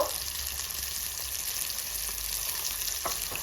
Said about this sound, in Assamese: এতিয়া ভালদৰে ফ্ৰাই কৰি লম ফ্ৰাই কৰি আমি ভাজি থাকিম